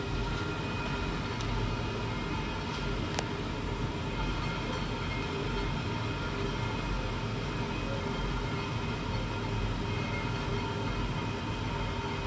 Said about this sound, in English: And that noise is the pulley and cable pulling in.